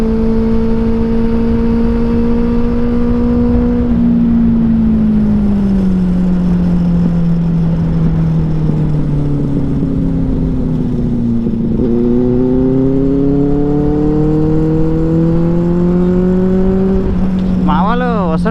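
Superbikes on a group ride, including a Benelli 600i, Kawasaki, BMW and Triumph, drone loudly nearby, engine pitch falling and then climbing again through repeated revving and gear changes.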